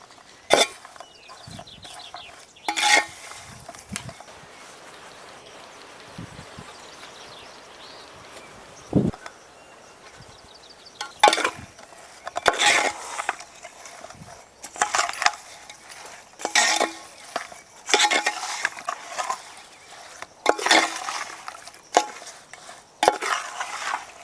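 A spoon mixes coriander powder, salt, chili powder and lemon juice into lukewarm cooked chicken for pickle. Close, irregular bursts of scraping and clinking come between quiet pauses, and they grow busier toward the end.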